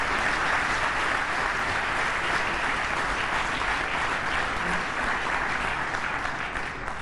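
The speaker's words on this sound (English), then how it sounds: "please join me in applauding a wonderful inaugural speech" An audience at an international conference applauds an inaugural speech. The applause is loud, dense and sustained, and it fills the whole stretch evenly without voices.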